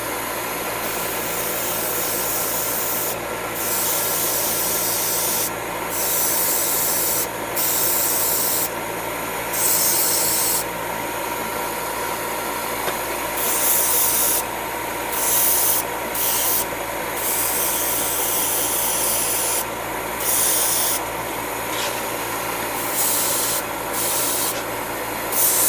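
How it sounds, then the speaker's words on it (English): An air blower running to circulate air and speed drying of paint on a Perfect Grade Gundam Exia model kit, a loud, steady rushing whoosh throughout, with rhythmic rubbing or flutter in the hiss and no talking. "Put the air on here so that way we can circulate a bit and also speed up the drying."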